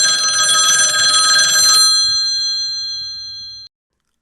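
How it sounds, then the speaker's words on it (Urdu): An old-style telephone bell rings loudly and close in a steady metallic trill, then stops and leaves a bright ringing tone that fades for a moment before cutting off. "ٹیلی فون کی گھنٹی بجی۔"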